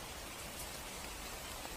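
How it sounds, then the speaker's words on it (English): Steady, dense patter of rain falling onto a red umbrella held overhead, a soft continuous hiss with no voices, even and unbroken throughout. "The rain falls on the umbrella."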